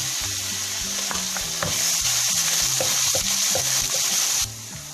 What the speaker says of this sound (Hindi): लहसुन और अदरक का पेस्ट डाल देंगे अब इसमें।